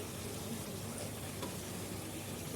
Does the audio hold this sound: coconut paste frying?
yes